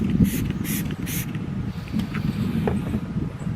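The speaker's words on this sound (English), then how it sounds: "So you want to spray." Several short bursts of lubricant spray misted onto car paint ahead of a clay bar pass, close and hissing, each burst brief and spaced apart over faint background noise.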